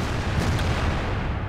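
An AMX 50 120 tank cannon fires in World of Tanks, a heavy low boom that blends into a steady, loud rumble across the short stretch with no talking.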